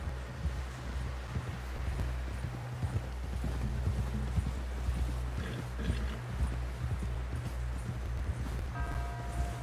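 Horse hooves clip-clopping steadily at a walk in Red Dead Redemption 2, a continuous close rhythm over a low rumbling game soundscape, with a brief tonal sound near the end.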